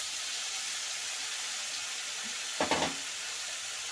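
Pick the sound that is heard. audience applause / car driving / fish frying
fish frying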